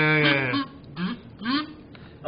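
A duck gives a few loud, nasal quacks at close range, the first long and drawn out and the next two shorter, separated by brief pauses.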